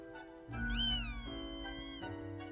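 A cat meows in a long, rising and falling drawn-out cry, close and fairly quiet over a low steady background, with no talking.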